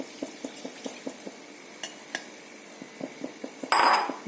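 A spoon stirs thick chicken curry gravy in a pan, making a regular series of soft clinks and scrapes against the metal, then a brief louder rattle near the end, with no talking.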